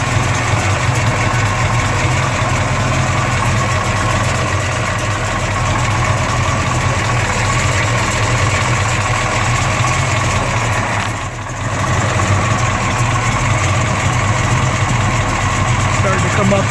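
A 1972 Chevelle SS, a four-speed clone, idles steadily indoors with a low, continuous engine rumble and a faint exhaust ping; the drone stays even throughout with one brief dip near the end.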